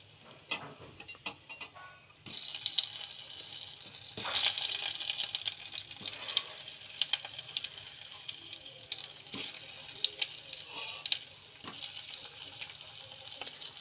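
Potatoes go into a pressure cooker with cumin, turmeric and curry leaves, and a steady sizzle of hot oil starts up abruptly and continues under light stirring clatter, close and moderately loud.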